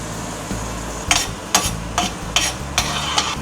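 Onions and garlic frying in oil for beef tacos, a steady sizzle underlying a rhythmic series of about six spoon scrapes and stirs against the pan, close and fairly loud.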